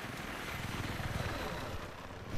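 A helicopter in a video game gives a steady, broad rotor drone that stays even throughout and ends in a short louder burst.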